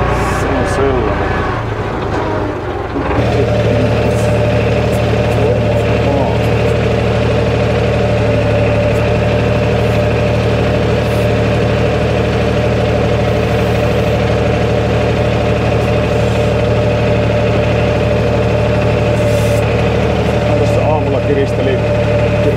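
A Valmet 604 tractor, rigged as a forestry combination with a Patu 505 loader, idles close by with a loud, steady, throbbing diesel drone after a brief start, while a person talks over it.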